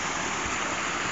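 A small waterfall pours in winter, a steady, dense rush of falling water filling the scene close by, with no voices.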